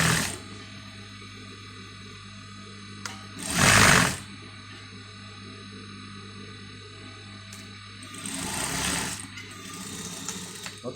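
A sewing machine hums steadily while stitching a princess dart blouse, a continuous close motor drone with two louder, brighter bursts of faster stitching along the way.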